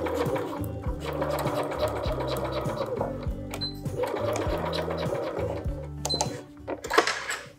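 A sewing machine stitches down a zipper tape for a skirt in rapid mechanical bursts, running in short sequences with brief pauses, close and clear with no talk.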